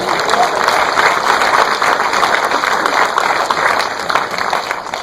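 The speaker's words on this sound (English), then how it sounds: "Look round of applause, ladies and gentlemen." An audience at a film Q&A for Eddie the Eagle breaks into loud, sustained applause. The thick wash of many hands clapping stays strong and even from start to finish.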